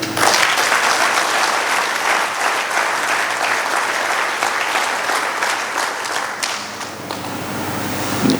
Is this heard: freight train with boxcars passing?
no